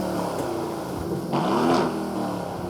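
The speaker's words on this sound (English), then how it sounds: "the snarly 4-litre twin-turbo V8 springs urgently into life" The 4-litre twin-turbo V8 of a 2019 Aston Martin Vantage catches and flares into a quick, rising rev, then settles into a rumbling idle, close and fairly loud.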